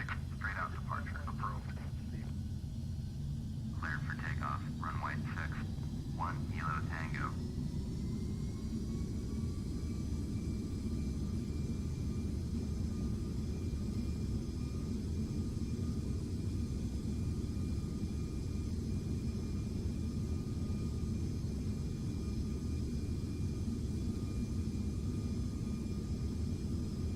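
Light aircraft engine running at full power for takeoff from Runway 6, a steady loud drone filling the clip, with radio voices and squeals over it early on.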